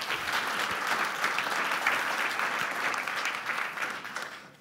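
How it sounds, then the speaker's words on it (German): Sustained clapping from a conference audience at a talk on OWASP Juice Shop, a dense, even wash of applause that carries on steadily for several seconds. "Bitte einen Applaus"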